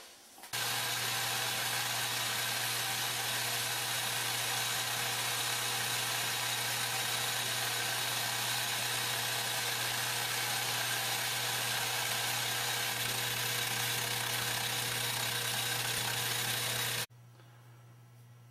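A wood lathe's carriage runs steadily while cutting wood movement gears, a loud continuous mechanical drone with a low hum that holds for most of the clip before cutting off near the end.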